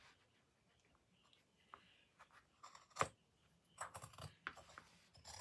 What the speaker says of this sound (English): Now I'm going to cut on my chalk line. So I got my heavy duty scissors out here.